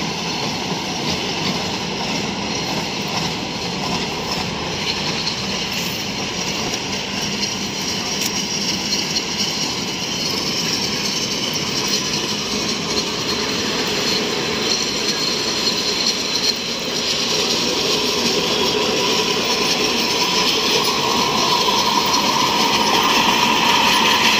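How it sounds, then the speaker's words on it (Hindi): A small ride train circling a ground rumbles steadily close by, with continuous wheel and track clatter and noise that builds slightly louder toward the end. "ग्राउंड का चक्कर लगाती दोस्तों ये ट्रेन"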